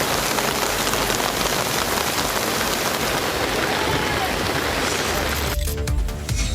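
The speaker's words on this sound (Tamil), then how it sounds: "வெளுத்து வாங்கிய மழையால் சாலைகளில் மழைநீர் பெருக்கெடுத்து ஓடியது." Heavy rain pouring onto roads in Vellore, a dense, steady hiss of water close by that holds loud and unbroken before cutting off sharply near the end.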